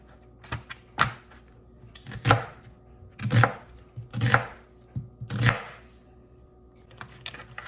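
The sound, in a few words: chopping an onion with a knife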